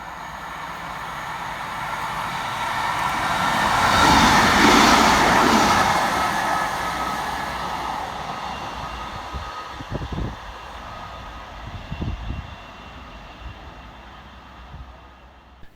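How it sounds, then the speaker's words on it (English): Northern class 150 diesel unit 150-130 running through Heaton Chapel station, a steady rumble that swells as it nears and slowly fades, with a few rattling clunks of wheels over rail joints as it goes by. "Next to pass through for Northern is 150-130, working 2H35 from Chester through to Manchester Piccadilly."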